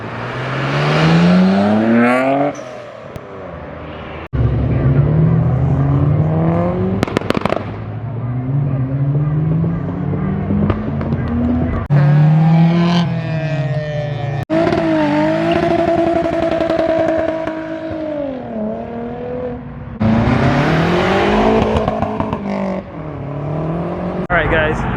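A modified Nissan Skyline R32 pulls away from a car show, its engine loud and close with rising revs and gear changes over about twenty-five seconds, with crowd chatter around it.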